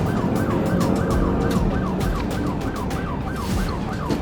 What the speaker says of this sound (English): driver, later identified as Matthew Wilson, ignored lights and sirens, ran red lights, and nearly collided with a